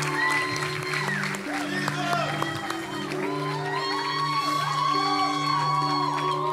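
A church congregation erupts in applause mixed with whoops, cheers and shouts, a dense, sustained crowd roar with music and voices carrying over it throughout.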